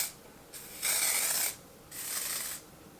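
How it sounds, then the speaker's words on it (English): Two short bursts of Dior Air Flash setting spray from an aerosol can, each a crisp airy hiss lasting under a second, close up in a quiet room. "I'm going to use this Dior Air Flash setting spray"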